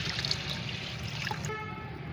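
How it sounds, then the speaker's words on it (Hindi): Water poured steadily into a container to dilute fertilizer for plants, a continuous close trickle and splash lasting throughout with no talk. "मैं 10 लीटर इसमें पानी मिलाऊंगी"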